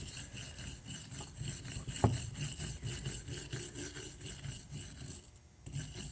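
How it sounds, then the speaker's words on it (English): Rust being wire brushed off a starter motor in steady, rhythmic scraping strokes, close and fairly quiet, with one sharp knock partway through. "you can wire brush this, get any of that excess rust off like this maybe"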